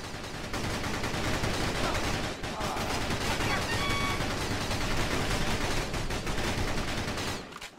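Dense, continuous gunfire in the Battalion Wars video game, overlapping rifle and machine-gun bursts forming a constant crackling barrage with a brief lull partway, loud and close throughout.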